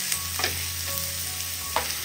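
Spice powder fries in a pan with a continuous bright sizzle, and two or three brief scrapes of a spoon rise above it.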